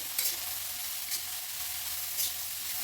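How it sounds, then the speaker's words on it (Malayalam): Vegetables with cabbage stir-fry on high flame for fried rice, making a soft, even sizzle with three brief scraping strokes of the spatula, fairly quiet and alone. "ഇതെല്ലാം ഹൈ ഫ്ലെയിമിലിട്ടൊന്ന് എല്ലാം ഒന്ന് വാട്ടിയെടുക്കണം"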